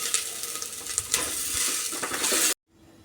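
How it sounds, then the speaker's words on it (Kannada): Masala for a chicken and avarekalu saaru fries in a pan with a close, crackling sizzle and a few stirring scrapes, then goes abruptly silent near the end. "ಚೆನ್ನಾಗಿ ಫ್ರೈ ಆಗ್ತಾ ಇದೆ"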